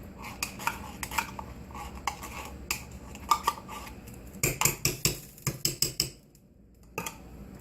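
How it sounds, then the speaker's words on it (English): A spoon scraping and clanking against a metal pot while tomato paste is stirred into chili, a string of sharp close knocks and scrapes in quick uneven rhythm, building into a faster burst before dying off. "So then we stir in all that tomato paste and we get that in there"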